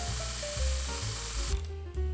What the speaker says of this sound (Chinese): 所以用砂带机砂模